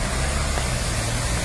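A bus rolls slowly along a waterlogged Via Marengo street in Alessandria, a steady close wash of tyre hiss and spray over a low engine rumble.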